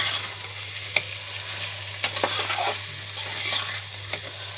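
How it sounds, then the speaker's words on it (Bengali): Spice paste of ginger, garlic and green chili with shahi masala frying in mustard oil, sizzling steadily while a spatula stirs and scrapes, with sharp hissing bursts as splashes of water hit the hot pan over a low steady hum. "একটু জল ছিটিয়ে ছিটিয়ে কষালে এটা খুব ভালো রোস্ট হয়"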